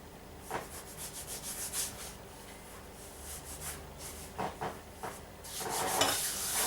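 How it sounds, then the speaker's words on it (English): Hands smooth fondant over a cake with soft, close rubbing and sliding strokes in irregular bursts, some brushing swells louder near the end, with no talk. "start working from top of cake, smoothing up everything"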